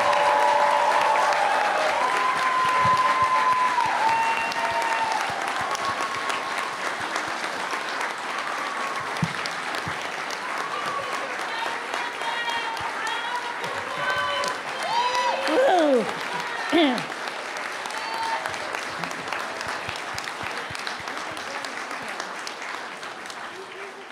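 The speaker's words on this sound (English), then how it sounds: "let's give them a round of applause." Sustained applause from a crowd honoring a graduating nursing class at a pinning ceremony, steady clapping filling the whole stretch and gradually easing, with a few cheers and whoops rising through it.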